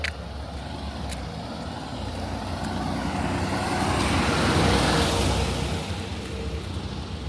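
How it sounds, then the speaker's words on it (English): A bus passes on a road outside, its broadband engine and tyre noise swelling to a peak and then receding, with no talking. "Wait till this bus come by."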